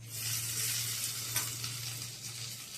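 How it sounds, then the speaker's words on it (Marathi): Hot phodni tempering poured onto poha dangar sizzles in a steady, loud hiss that holds for about three seconds over a low, constant hum, with no talking. "आपण ह्याच्यावर छानपैकी फोडणी ओतणार आहोत"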